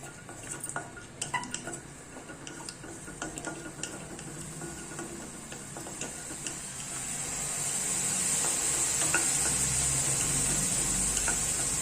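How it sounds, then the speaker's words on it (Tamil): Cashew nuts fry and are stirred in a pan for aval paayasam: quick scraping clicks and taps of a utensil come first, then the sizzle builds into a louder, continuous hiss with no voices. "இதில் இந்த முந்திரி பருப்பை சேர்த்து வறுத்து எடுத்துடலாம்"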